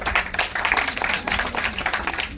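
An audience at a district-level science quiz held in a college hall claps together in a dense, steady burst of applause lasting a couple of seconds, with a faint voice underneath.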